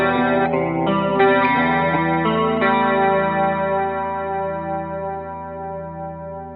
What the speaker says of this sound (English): which is a great chorus pedal, and it's going to take our sound there